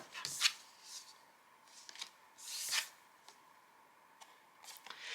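Oracle cards are shuffled and drawn by hand, giving quiet, crisp riffling bursts and soft flicks spaced irregularly, close and alone with no talking.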